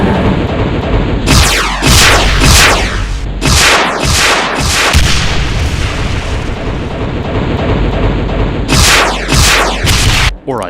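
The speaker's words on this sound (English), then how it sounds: "at a distance, it can fire either a dual volley of straight rockets" Cyberdemon in a Doom mod firing dual volleys of straight rockets, with loud whooshing launches and heavy booming blasts in bursts, a lull in the middle, then another volley near the end.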